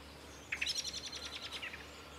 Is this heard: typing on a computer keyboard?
no